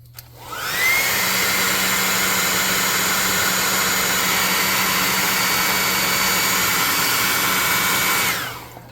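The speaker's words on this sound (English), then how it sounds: "I'm going to blow dry the rest of it down" Blow dryer running steadily for several seconds to dry a miniature model base, a loud close continuous whoosh that starts and cuts off cleanly.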